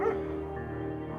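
A dog from the video game Firewatch gives a short, close bark followed by a brief whimpering yip, heard alone.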